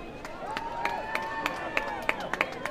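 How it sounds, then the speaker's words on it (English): A football crowd at an outdoor game applauds as the rain ends, scattered distant clapping with sharp individual claps standing out over a tonal background hum. "And everybody applauding the rain and the ending of the rain as well."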